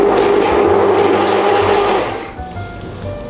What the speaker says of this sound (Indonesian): Lihat, praktis banget kan hand blender aku?